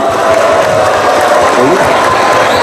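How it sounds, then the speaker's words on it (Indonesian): An audience at an Islamic sermon gathering breaks into applause, a loud, dense wash of clapping with some crowd noise mixed in, sustained throughout. "Tepuk tangan."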